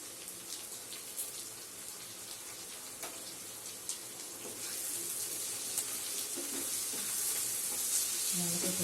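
Onions and tomato fry in a pan for an egg roast, a continuous soft sizzle with occasional stirring scrapes, growing louder and steadier in the second half.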